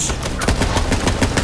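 Rapid automatic gunfire in Borderlands 3, a steady burst of closely spaced shots lasting about a second and a half, loud and near.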